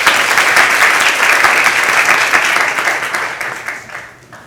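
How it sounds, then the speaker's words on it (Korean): A large audience at an international academic conference on history and constitutional law applauds at length, with dense, loud, steady clapping that gradually tapers off toward the end. "다시 한번 원장님께 큰 박수 부탁드립니다"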